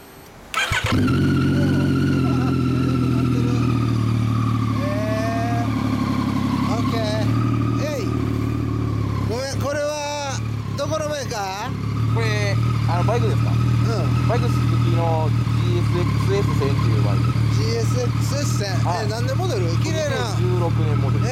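A 2016 Yamaha MT-09 motorcycle with a US Yoshimura exhaust starts with a sharp burst, then idles loud and close, with several throttle blips rising and falling across the middle, while people talk over it.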